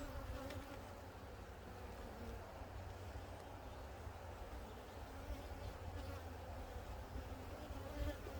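Honey bees buzz steadily around an opened hive, a constant close droning swarm hum with occasional quiet voices underneath.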